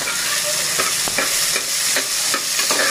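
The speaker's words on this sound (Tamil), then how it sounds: "இதிலே வெங்காயம், தக்காளி, பச்சை மிளகாய் போட்டு வதக்கிக்கலாம்." Onion, tomato and green chilli sauté loudly in a hot pan, a steady close sizzle broken by regular scraping strokes of a stirring spoon. No one speaks.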